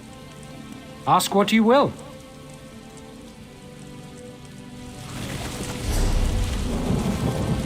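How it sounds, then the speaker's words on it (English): Rain and thunder in The Elder Scrolls Online: a steady downpour hisses throughout, then a deep thunder rumble swells loudly near the end, while a voice speaks briefly over the rain early on. "I could do without this damnable rain. It's been storming since we arrived, and it shows no sign of letting up."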